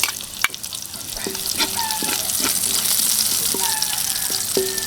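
Onions sautéing in hot oil after golden-browned garlic, a steady close sizzle with scattered stirring clinks and scrapes of a utensil against the pan throughout.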